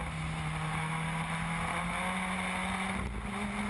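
A Formula Ford race car's engine drones loudly and steadily from onboard at Brands Hatch, a sustained buzzing roar with strong wind rush and a brief dip near the end as it shifts down.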